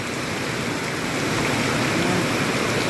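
Heavy rain pours down in a constant, loud, close hiss with no breaks and no voices, a dense wash of falling water.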